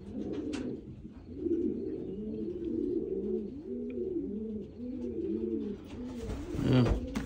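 Racing pigeons coo in a steady run of soft, rolling calls, several birds overlapping close by, with faint background movement and a brief rustle near the end.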